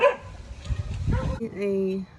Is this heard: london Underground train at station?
no